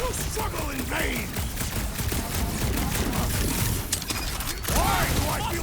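Rapid bursts of gunfire and mechanical clatter fill a battle in the Guardians of the Galaxy video game, mixed with in-game voices and swooping effects, loud and continuous.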